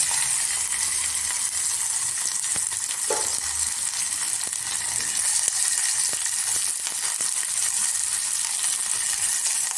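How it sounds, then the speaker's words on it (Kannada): Onion and curry leaves fry in hot oil with a steady, close sizzle and crackle, broken by occasional stirring clicks and no talk. "ಇದೆಲ್ಲ ಸ್ವಲ್ಪ ಚೆನ್ನಾಗಿ ಫ್ರೈ ಆಗಿ ಸ್ವಲ್ಪ ಹಿಂಗೆ ಹಾಕ್ತೀನಿ."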